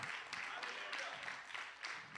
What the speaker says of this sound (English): Can we give the Lord a hand clap?